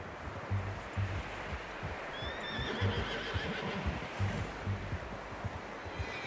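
A horse in Red Dead Redemption 2 gives a whinny over steady hoof clip-clops and a soft rustling outdoor ambience, fairly quiet throughout.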